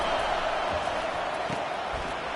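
A stadium crowd in a college football video game roars as a steady, dense wash of noise that stays loud and even from start to end.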